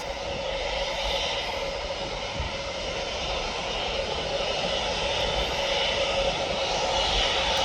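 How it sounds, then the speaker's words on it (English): A Turkish Airlines Airbus Neo jet roars steadily at Birmingham airport, a loud, continuous broadband engine rush holding for several seconds with no voices. "And then we've got the Neo of the Turkish Airlines."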